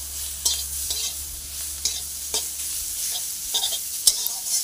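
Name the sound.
stirring salted greens frying in a pan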